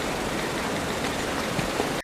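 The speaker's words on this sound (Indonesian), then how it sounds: "Hujan turun membasahi negara Vietnam saat itu." Steady rain falling, a dense, even wash of hiss with no gaps, loud and close throughout before cutting off abruptly at the end.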